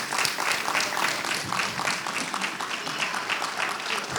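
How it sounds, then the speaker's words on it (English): An audience at a community economic development anniversary event gives a steady round of applause, a dense, even patter of many hands clapping throughout at moderate volume. "We'd love to give you a round of applause."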